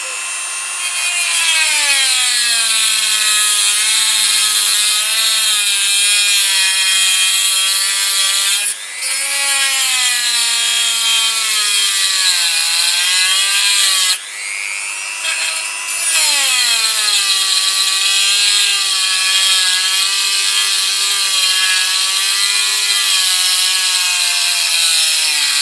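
A motorcycle yoke part for a Kawasaki GPZ500S being cut, giving a loud, continuous rasping whine whose pitch wavers and drifts, broken by two brief pauses.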